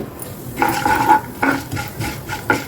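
Chana dal, urad dal, mustard seeds and fenugreek seeds fry in hot oil for a brinjal rasam, heard as soft crackling with repeated stirring scrapes and clinks of a spoon against the pan, close by with no talking.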